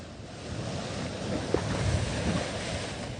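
Water rushes and surges steadily around a schooner under sail at sea, mixed with constant wind buffeting the microphone.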